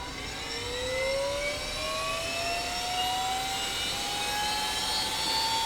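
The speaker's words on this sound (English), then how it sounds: "gradually started to wind up the voltage on the starter generator until N1 started to gradually climb for the very first time." A GT50 jet engine spooling up for its first run, driven by a starter generator: a steady loud rushing roar with thin whining tones that slowly rise in pitch throughout, alone with no talk.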